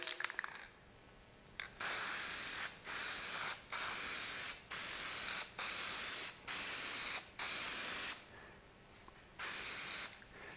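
An aerosol can of spray paint coats wood for an antique finish. About eight evenly spaced, close hissing bursts, each roughly a second long, are separated by short silent gaps.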